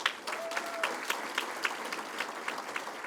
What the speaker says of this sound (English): Please join me in one more round of applause for the Distinguished Alumni Awardee, Nicole Linder.